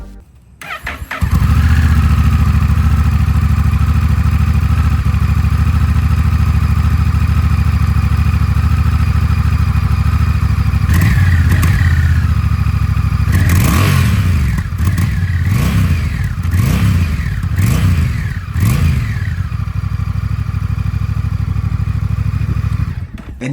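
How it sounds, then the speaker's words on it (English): A 2025 Honda Rebel 1100T motorcycle on its stock exhaust starts up, settles into a loud steady idle close by, then gets a series of sharp throttle blips and revs near the end, with no talk. "Here's a clip of the stock exhaust first,"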